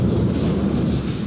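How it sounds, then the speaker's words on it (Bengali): Storm with thunder and strong wind: a low, continuous rumble fills the short stretch, loud and steady, with wind buffeting the microphone and no voices. "দেখছেন কত বজ্রপাত হচ্ছে"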